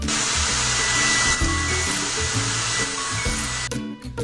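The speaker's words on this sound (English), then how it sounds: "Take a hair dryer." Hair dryer sound effect in a kids' dress-up and care video game, a steady whooshing blow for about four seconds over light background game music, cutting off near the end.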